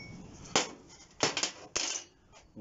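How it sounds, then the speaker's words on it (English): Metal is chopped close to the bend during a Viking axe build, giving three sharp, fairly faint striking impacts spaced out over a low background hiss. "So we'll chop down there."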